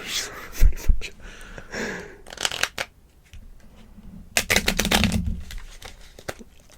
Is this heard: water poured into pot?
no